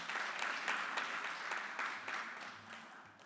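An audience at an education faculty reading event claps in a warm round of applause, dense and steady at first, then gradually thinning and fading toward the end, moderately distant in a hall.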